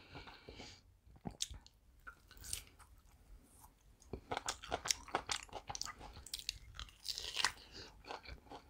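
Close, crunchy chewing and biting of grilled meat skewers and mushrooms with cheese sauce in a mukbang, irregular bites and squishy mastication with quiet gaps between, no talking.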